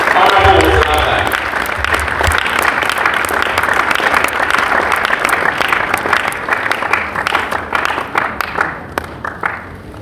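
Sustained audience applause for Honorable Kinaata, CEO of Paintsiwaa Group, at a Ghanaian event: dense, loud clapping from a large crowd that holds steady for ten seconds before thinning into scattered individual claps near the end.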